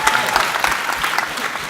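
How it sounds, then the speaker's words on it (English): Audience clapping at a creative works conference panel on feminism in creativity, a brief burst of dense, steady applause filling the room, fairly loud and close throughout. "Can we all just give Matt a round of applause for surviving this so far?"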